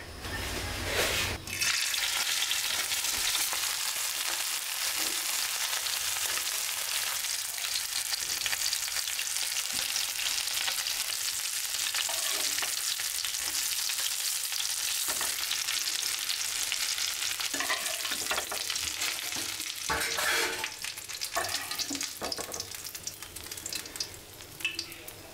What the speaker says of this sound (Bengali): আমরা মুরগিটা এখন ভেজে নিব।